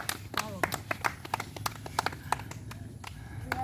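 People clapping their hands on the set of a comedy shoot, a quick run of irregular sharp claps over a murmur of background voices.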